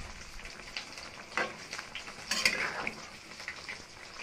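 Stirring a winter vegetable curry with lentil dumplings in a pan, with ginger paste, sugar and ghee just added: soft scraping and light sizzle, with a few louder utensil scrapes near the middle, no talking.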